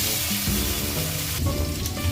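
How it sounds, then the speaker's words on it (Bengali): Fish frying in hot oil for pona macher curry in a home kitchen, a loud, steady sizzle that runs without a break and swells briefly near the end. "তেলটা গরম হয়ে গেছে, তো মাছগুলো দিয়ে দেবো।"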